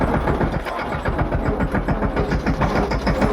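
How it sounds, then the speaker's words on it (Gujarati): A tractor engine ticks over slowly on the way to a farm field where embankments are being built, giving a steady, close, low throbbing idle with even rhythmic pulses and no talk. "તમે ટ્રેક્ટર ધીમું ધીમું હાલે"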